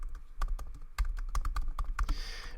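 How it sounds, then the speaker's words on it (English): Keys clatter on a computer keyboard as code is typed, a quick irregular run of sharp close clicks ending in a slightly heavier keystroke, with no one speaking. "And then I would type in an enter here."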